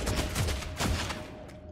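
Bursts of rapid gunfire in the Deathwatch video game during a Tyranid invasion, loud and clustered in quick volleys over under two seconds, then trailing off.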